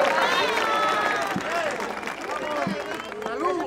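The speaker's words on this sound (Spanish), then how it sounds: "Un aplausito, señores, por favor" Audience at a televised Halloween costume contest gives a brief round of applause, clapping and crowd noise mixed with voices talking over it.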